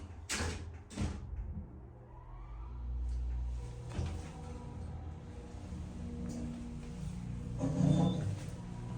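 A modernized electric hydraulic elevator at Chapparal Plaza in San Diego starts up: a couple of sharp door clunks come first, then a low motor hum builds and settles into a steady mechanical drone.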